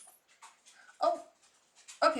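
A beagle whimpers and makes soft dog sounds in a room with hardwood floors, with short whines among quiet moments, while people talk nearby.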